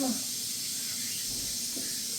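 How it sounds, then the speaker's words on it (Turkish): A steady broadband hiss of a small gas canister burner with a pot bubbling on it, continuous and close, with faint voices at the very start. "Burada da kaynıyor. Küçük tüpün üstüne koydular."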